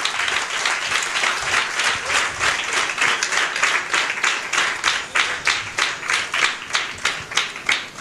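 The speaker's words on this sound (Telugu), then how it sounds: "clap for jesus క్రీస్తు కొరకు చప్పట్లు కొడదాం" A church congregation clapping for Jesus during a worship service, loud, rhythmic clapping in a steady beat that grows more pronounced and evenly pulsed toward the end, with no talking over it.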